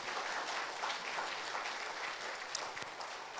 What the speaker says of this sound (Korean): 우리 모두에게 격려의 박수로.